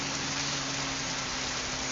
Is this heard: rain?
yes